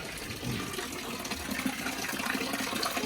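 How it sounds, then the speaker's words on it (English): Water runs and gushes steadily on a cattle farm, a constant close rushing wash holding at even volume throughout with no speech. "That is water."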